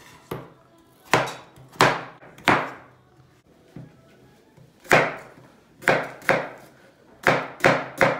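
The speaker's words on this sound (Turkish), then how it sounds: "Havucunu doğruyoruz." Carrots chopped with a knife on a cutting board during home preparation of a vegetable meatball stew, about a dozen sharp, close chops in irregular bursts with quiet pauses between, no talking.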